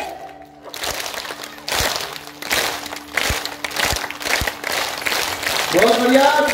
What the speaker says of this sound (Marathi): आता फक्त टाळी ती पण एका तालात मस्त एका तालात